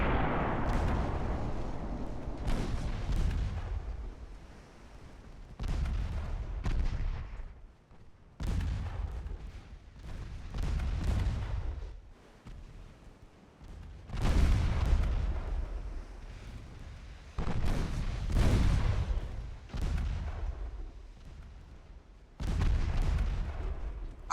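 Heavy naval gunfire in Ultimate Admiral Dreadnoughts, with loud booming salvos and impacts striking a Chinese Empire warship, coming in repeated bursts with rumbling decays and short gaps, no talk.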